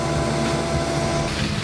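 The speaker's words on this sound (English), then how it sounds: "They are sandblasting right next to me, so it's pretty loud." Sandblasting right next to a steel workshop, a dense continuous roar of hissing blast noise filling the whole clip, loud and steady with no talk.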